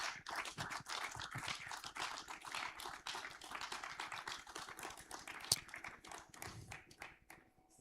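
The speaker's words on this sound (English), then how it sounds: "Can we have a clap for them" An audience at the WFO annual meeting claps for the session's speakers: a dense, steady patter of many hands lasting several seconds, fairly quiet and distant, thinning out toward the end.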